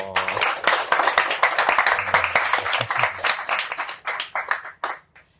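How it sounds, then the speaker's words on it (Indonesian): An audience at the ASEAN Plus Cadet Sail 2026 event bursts into loud, dense applause with steady clapping that swells and then thins out, ending in a few scattered claps. "Aplaus dong."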